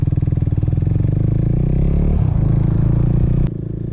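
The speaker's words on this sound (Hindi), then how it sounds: "आज हम राइड कर रहे हैं अपनी KTM ड्यूक 390" Single-cylinder KTM Duke 390 motorcycle engine running close and loud, a steady pulsing thrum that swells slightly before cutting to a lower idle near the end.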